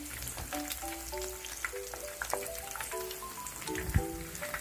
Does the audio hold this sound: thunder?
no